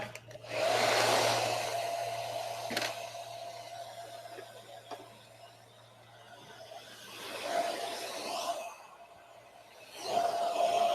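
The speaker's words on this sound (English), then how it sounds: "So now I'm going to blow dry it." A hair dryer blows steadily on a layered bob haircut, loud and close, with its whine dipping and swelling as it moves around the head, and no one speaking.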